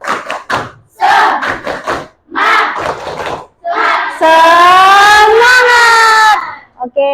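A classroom of pupils performs the 'tepuk semangat' clapping chant, with rhythmic bursts of claps and loud shouted voices, ending in a sustained unison cheer.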